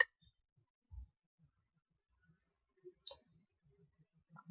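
A few sparse, sharp computer mouse clicks in a quiet room, spaced apart over a few seconds while an Eclipse IDE project is set up, with no talk during them.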